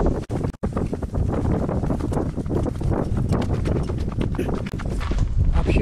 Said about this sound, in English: there's quite a lot of wind today